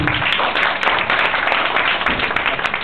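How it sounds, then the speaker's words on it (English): Audience at an award training session giving a round of applause, a continuous, fairly loud clatter of many hands clapping, with scattered sharper claps standing out. "Can we give them a big round of applause?"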